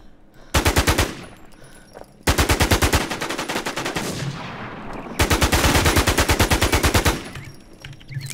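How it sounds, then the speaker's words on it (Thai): Machine gun fire in the video game Infestation, three long rapid bursts of loud, evenly spaced shots, close and dominant, separated by short gaps with faint background sound. "มึงยิงคนไม่มีทางสู้"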